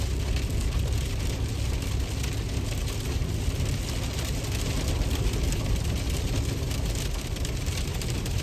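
Heavy rain pours steadily while cars drive past on a flooded, wet road with standing water, a dense continuous hiss and splash with no pauses or voices.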